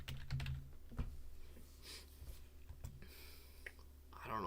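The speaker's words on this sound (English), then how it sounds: "What do I type in here?" Keys tapped on a computer keyboard in short irregular bursts, close and fairly quiet, with a few louder clicks standing out from a faint background hum.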